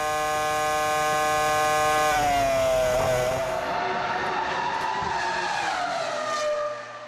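Formula 1 race cars from the 2005 season, a Ferrari among them, scream past at high revs: loud sustained engine whine that shifts pitch sharply as a car passes, followed by a broad rushing roar that fades near the end.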